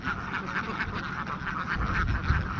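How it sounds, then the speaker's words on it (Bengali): A large flock of over four hundred ducks quacking at a duck farm, a dense continuous chorus of overlapping nasal quacks at steady volume, moderately close with faint background noise. "এখানে অনেকগুলো হাঁস আছে, এর মানে 400 প্লাস হাঁস আছে এখানে।"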